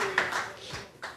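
An audience at a live podcast show at PodRennes 2018 claps briefly, a short patter of scattered hand claps heard close by.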